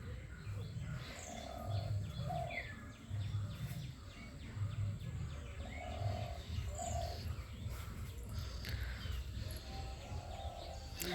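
Bird calls near a house, soft repeated cooing phrases with scattered faint chirps over a quiet background hiss, fairly distant and low in level.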